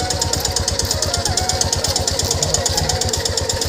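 An auto rickshaw engine runs close by with a loud, steady, rapid chugging pulse that holds throughout, with no voices.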